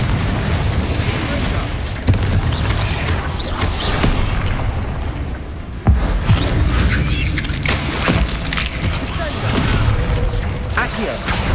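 Fire-blast spell from a Harry Potter video game bursting in a continuous barrage of booming explosions, with sharp louder blasts near the two- and six-second marks over dense crackling rumble.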